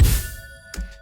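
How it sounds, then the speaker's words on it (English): A short sound-design whoosh build-up for an animation swells in over about a second, with a thin, steady high shimmer held above it and a brief airy burst near the end; no talking. "So the build up here, the whoosh before it, sounds like this."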